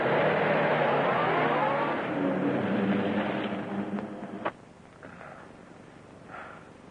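A car engine drones steadily while the car turns around, then drops away after a sharp knock, leaving faint quieter noise with no speech.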